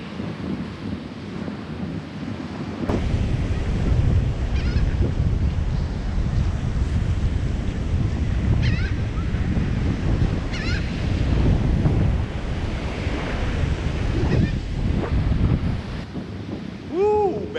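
Strong wind buffets the microphone at the shore, a constant loud rumbling roar with gusting surges and surf beneath it, continuing for the full stretch with no voices.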